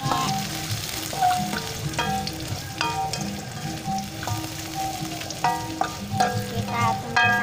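Chili and shallots stir-fried in a pan for a water spinach dish, with a steady loud sizzle and repeated bright metallic scrapes and clinks of the spatula against the pan at an irregular rhythm, close up.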